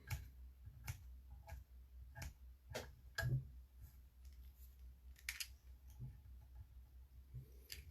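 Fly-tying material trimmed with scissors at a tube fly streamer, giving a run of sharp, close snips and clicks spaced roughly every half second to second, alone with no talk.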